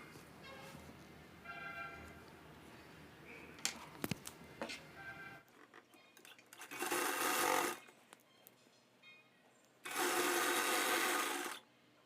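A sewing machine stitches the side seam of a blouse in two loud, steady bursts of a few seconds each, preceded by quieter handling and clicks, with no talking.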